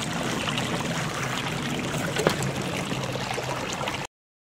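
Stream water flows and trickles steadily nearby, a soft continuous babble with one brief splash midway.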